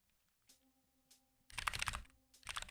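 Computer keyboard keys pressed while playing the rhythm game ADOFAI, a few sparse clicks and then fast dense bursts of rapid tapping, close and crisp, under a faint steady tone.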